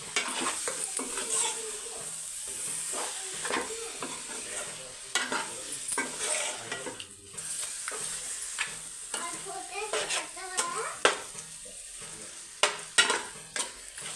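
Fish fry in a pan while being turned over, a close steady sizzle with repeated spatula scrapes and clinks against the pan, no voices.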